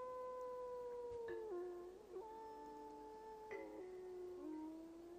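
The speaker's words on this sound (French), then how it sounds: "Le but, ça va être de faire hurler les différents loups l'un après l'autre." Wolves howling in the video game Tengami, long tonal howls that slide downward in pitch and overlap one another, fairly quiet and alone with no speech.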